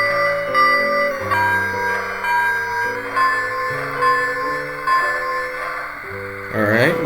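A Lionel Polar Express ready-to-play toy train bell, Bluetooth-controlled, rings in a series of electronic chimes that step up and down in pitch, sounding steady and fairly loud, ending with a quick rising sweep.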